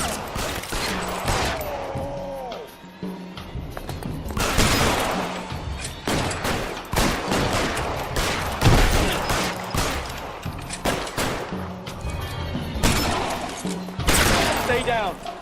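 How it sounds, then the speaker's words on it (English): Gunshots ring out in L.A. Noire, a dense run of loud close shots and bursts that keeps going throughout, mixed with game sounds and voices. "Shots fired."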